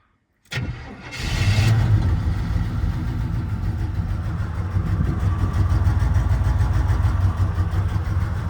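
A car engine, jump-started from a portable jump pack, cranks briefly and then catches, settling into a steady, close, loud idle that continues to the end.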